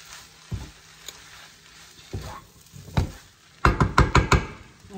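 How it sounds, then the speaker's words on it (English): Indonesian stir-fried noodles with green onion are mixed in a pan, giving a soft sizzle under irregular knocks and a quick burst of rapid scraping taps near the end, close by, with no voices. "Just mix the green onion together with the rest."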